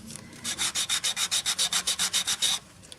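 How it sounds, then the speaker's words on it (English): Sandpaper wrapped around a marker rubs back and forth over a wooden derby car, making about fourteen quick, even scratchy strokes up close, followed by a brief quiet pause. "And this allows us to sand right in those areas."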